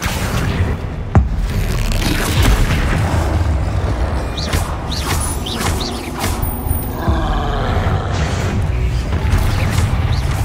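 Booming Bombarda spell explosions during magic combat in the video game Hogwarts Legacy, loud repeated blasts and crashes over a dense, continuous battle din.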